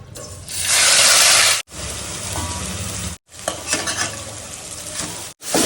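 Chili powder, coriander powder and other spices fry in hot oil in a wok, giving a loud steady sizzle broken by a few short silences, with stirring scrapes underneath.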